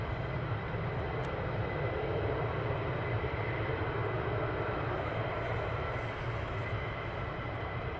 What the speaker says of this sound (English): we're going to pan around to the F-35s now taxiing down